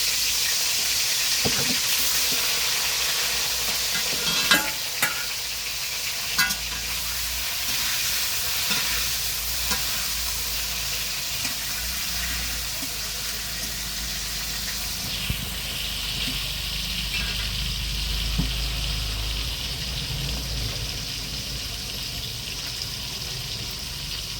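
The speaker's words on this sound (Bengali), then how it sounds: "তেল গরম হয়ে গেছে মাছগুলো দিয়ে দিলাম" Hissing, bubbling fry of shing catfish in hot oil in a kadai, close and continuous, with a few sharp clatters of cookware.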